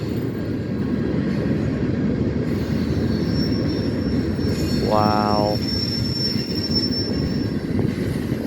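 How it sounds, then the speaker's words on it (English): A huge freight train rolls past close by with a continuous heavy rumble of wheels and cars, a brief squeal of wheels partway through, and a person speaking softly over it. "That is just a mammoth freight train."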